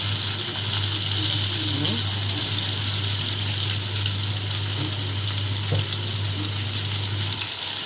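Fish fillets frying in oil give off a steady, broad sizzle with a constant low hum beneath, continuous and fairly loud with no talking.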